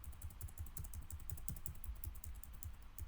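Typing on a computer keyboard while entering a name into a PowerPoint slide, a steady run of soft, quick key clicks at low level with no talking.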